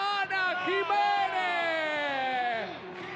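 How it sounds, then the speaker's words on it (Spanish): A television studio audience at the opening of a Showmatch program cheers loudly, with sustained whoops and shouts from many voices forming a bright, continuous wall of sound that fades slightly near the end. "Fuerte el aplauso para presentar a mi amiga."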